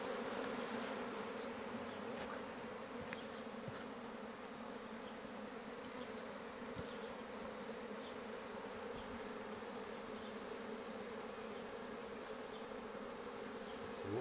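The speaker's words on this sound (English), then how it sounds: "Bees in the air can find their way down." A cast swarm of honey bees buzzes continuously in the open air, a dense, steady droning hum of many insects at moderate distance, with no talk.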